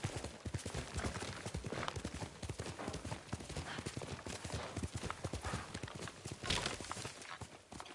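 Rapid, steady hoofbeats of a horse galloping in the video game Ghost of Tsushima, loud and close, with rhythmic clip-clop impacts running continuously throughout.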